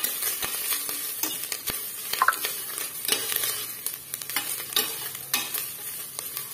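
Freshly home-grated coconut frying in a pan while being stirred: a continuous soft sizzle broken by frequent scraping and clinking strokes of the spoon, close and clear.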